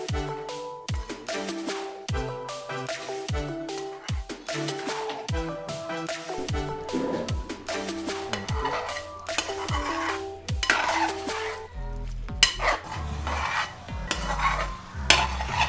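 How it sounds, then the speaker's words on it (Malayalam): Kerala-style beef varattiyath being stirred and roasted in a pan over a medium flame, with repeated clanking scrapes of a metal spoon against the pan and a soft sizzle, close and busy, no talking. "ഇനി ഇതൊരു മീഡിയം ഫ്ലെയിമിലിട്ട് നമുക്ക് വരട്ടിയെടുക്കാം"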